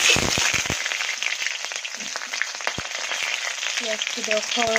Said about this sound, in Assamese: ইয়াত দি দিম মই পিঁয়াজডোখৰ